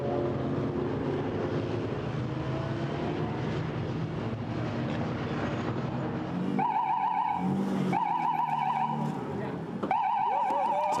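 GT4 race cars roll down the pit road at the Nürburgring during a 2019 GT4 European Series race. Muffled engines hum beneath a commentator's voice, then rising and falling engine tones pass one after another near the end.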